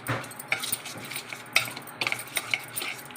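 A spoon stirs salt through a bendakaya (okra) fry mixture, giving irregular close metallic clinks and scrapes against the vessel over a soft background hiss.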